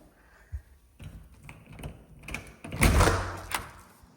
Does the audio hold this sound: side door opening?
yes